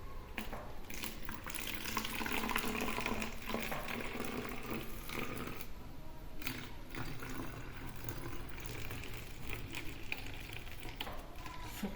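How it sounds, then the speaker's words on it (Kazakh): Water poured carefully into a container with a lid during a children's science activity, a steady splashing trickle running continuously without talk. "Ал енді балалар, мына суды"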